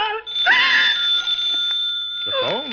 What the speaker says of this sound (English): The phone, Matilda.